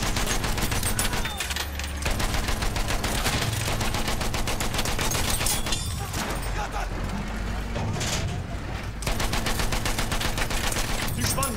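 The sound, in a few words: machine gun fire in video game Battlefield 1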